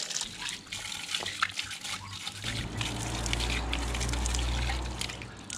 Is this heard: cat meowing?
no